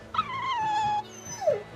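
A dog whimpers aboard a ship in the Tales of Berseria video game, a drawn-out high whine followed by a second shorter whimper, close and clear with no talk.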